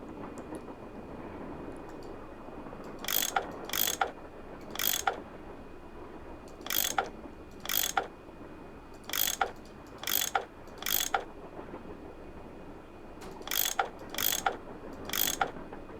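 Ratchet tool unscrewing bolts in a Nancy Drew video game, with sharp clicking ratchet strokes, mostly in quick pairs, repeating over a steady low room hum.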